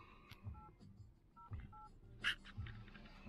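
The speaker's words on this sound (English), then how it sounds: "dialing on her phone" A phone keypad sends several short dual-tone dialing beeps in an uneven sequence, faint and close, with light background rustle and low murmuring around them.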